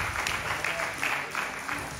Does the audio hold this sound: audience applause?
yes